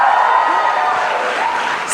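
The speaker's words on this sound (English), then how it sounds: "I think we need a louder cheer for this" A crowd at the NDTV Yuva 2025 event cheers and shouts in a steady, fairly loud roar that lasts the whole moment without a break.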